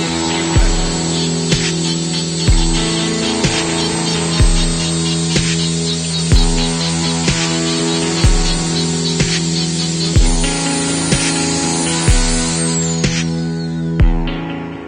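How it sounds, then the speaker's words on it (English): A wood lathe turns a sycamore platter at slow speed, giving a steady mechanical hum with a regular rhythmic thump about every two seconds, loud and close, with no talking. "I'm going to keep the lathe running pretty slow, like so."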